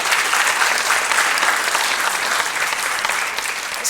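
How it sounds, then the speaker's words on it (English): Audience applause at a candidates forum for a northern electoral district, a loud continuous burst of clapping from a crowd, even and unbroken for the whole span. "A round of applause"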